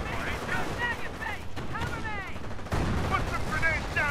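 Battle noise from the video game Company of Heroes, in a cooperative Allied mission: steady gunfire and artillery rumble roll on throughout, with clipped radio-style soldier voices calling out over the combat.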